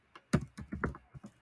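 Quick, close clicks of fingers typing on a computer keyboard, irregular taps and small bursts over a quiet background.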